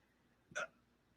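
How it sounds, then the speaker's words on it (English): A single sharp hiccup from a man, brief and fairly close, with a short catch before the main burst, standing alone against a quiet background. "I can't get rid of the hiccups."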